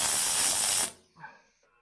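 Loud crackling hiss from paint burning off 1 mm sheet metal during a welding repair on a B post of a VW T2 campervan, lasting under a second, then stopping into quiet with a faint voice.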